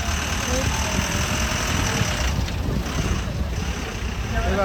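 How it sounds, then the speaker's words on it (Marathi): An auto rickshaw's small engine idles and rumbles steadily nearby, with voices talking faintly over the continuous drone. "मग रिक्षा गेली ती वापस आली"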